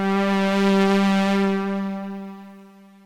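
A Serum synth patch through a delay effect sounds one sustained, rich harmonic tone that rings out and gradually fades over a few seconds, alone and moderately quiet.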